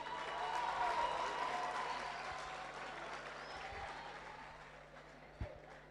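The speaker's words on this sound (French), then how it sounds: "je voudrais que vous applaudissiez à nouveau très fort pour elle" Applause from an audience after a speaker asks them to clap again for a woman, a steady wash of clapping and crowd noise that fades slightly over the six seconds, with a sharp thump near the end.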